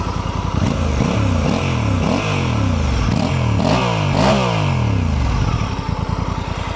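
A Honda motorcycle with a stock exhaust revs repeatedly, rising and falling in a string of throaty bursts over a steady idle, loud and close throughout.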